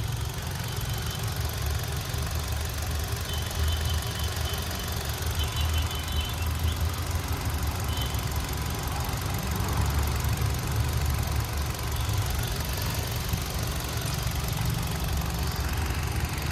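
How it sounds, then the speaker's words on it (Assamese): A 2022 Hyundai Venue petrol car with about 50,000 km on it idles nearby, a steady, even engine hum with a low rumble running without pause and no talk over it. "মই স্টাৰ্ট কৰি এবাৰ শুনাই দিও আপোনালোকক কি কন্ডিশনত আছে ইঞ্জিনৰ সাউন্ডটো"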